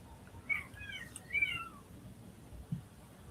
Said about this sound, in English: One of the cats. They always come by meowing.